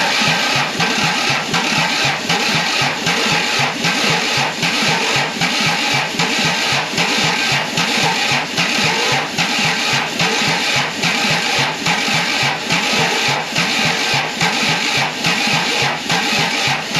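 Isuzu diesel generator engine running after starting, a steady rapid knocking chug at an even idle, close and loud, with a constant mechanical clatter throughout.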